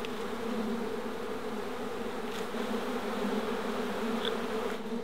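Agitated honey bees swarming in an orange tree, a steady, dense buzzing drone that stays loud and continuous throughout, with no voices.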